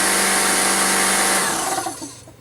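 Air compressor running with a loud, steady motor whine and hiss that stops partway through and winds down quickly, close by and without talk.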